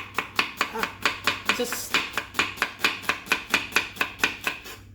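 A knife chops beef into pieces on a board in a steady run of sharp, evenly spaced cuts, close and clear, with a single brief spoken word.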